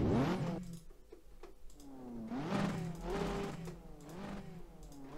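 A drifting car engine in Assetto Corsa revs up and down repeatedly in rising whining sweeps, fairly quiet, with no talking.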